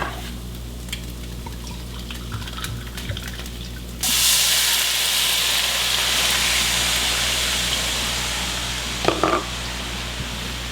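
Brandy poured into a hot skillet with garlic for a Philly steak and cheese dish, a sudden loud hissing sizzle that holds steady as it reduces, with a brief clink near the end.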